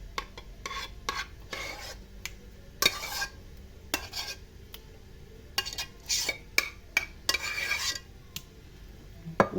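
A spoon spreads mock cream (qishta) across a metal baking tray, with close, intermittent scrapes and clinks of metal on metal in uneven bursts and soft shuffling between them.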